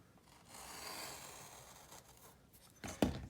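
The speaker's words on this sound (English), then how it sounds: "I take this paper and I slide it up to this edge here and cut that out" Paper slid against a jig edge and cut into a paper rocket fin blank, a soft close rasp of cutting that ends in a sharper snip and rustle.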